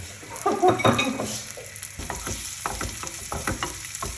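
Chilies sizzling in a hot pan while an omelette is being made, stirred with several short scraping strokes. The frying is close and lively, loud at first and then steady, with no talking.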